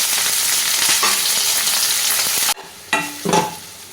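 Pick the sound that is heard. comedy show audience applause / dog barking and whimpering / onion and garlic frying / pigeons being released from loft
onion and garlic frying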